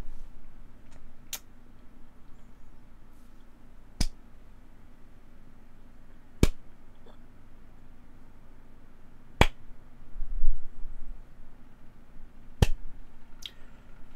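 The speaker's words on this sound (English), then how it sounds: "Enjoy the slow clap." Five sharp, isolated hand claps ring out at slow, even intervals of roughly three seconds against a quiet room background.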